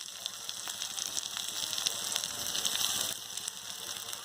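Grated coconut sautéing in a pan for a sautéed chutney, a steady close sizzle and crackle with bright spitting pops throughout, no voices.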